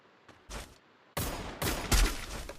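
M10 gunfire in a battle video game: a few separate sharp shots, then a loud rapid burst of firing that carries to the end, with no voices.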